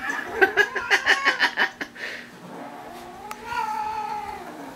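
An irritated alley cat lets out a rapid series of about eight pulsing caterwaul yowls, then a longer drawn-out low meow, close and fairly loud.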